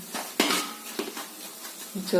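A spoon clinks and scrapes against a pan while half the ground rice flour is stirred for sweet rice balls, a few sharp knocks and a run of scraping close by, with no talk.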